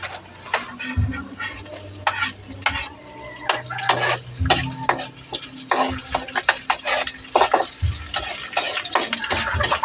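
Garlic and onion sautéing in a pan, with repeated stirring clinks and scrapes of a utensil against the metal and a low sizzle underneath, close and moderately loud, no voices.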